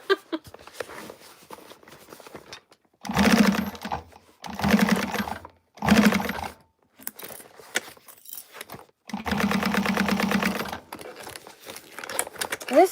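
Home sewing machine stitching around the edge of a Regina Phalange bag, running in several short bursts of rapid mechanical stitching separated by pauses and small handling noises, close by.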